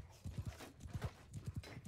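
Horse hooves clip-clopping in Bannerlord Online, a medieval PvP battle game, as a mount moves at speed: repeated loud paired and triple hoofbeats in a quick, uneven rhythm close by, with no speech over them.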